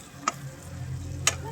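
Pointed gourd being stirred and fried in a pan, giving two brief scraping clicks of a spatula against the pan over a low, quiet sizzle.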